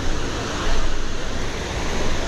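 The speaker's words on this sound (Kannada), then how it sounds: "ಆ ಲೆವೆಲಿ ವಾಟರ್ ಬೀಳ್ತಾ ಇದೆ ನೋಡಿ, ಇದು ಗುರು ಅಬ್ಬೆ ಫಾಲ್ಸು" Abbey Falls waterfall in Coorg pours in a steady, dense roar of falling water, loud and continuous throughout with slight swells.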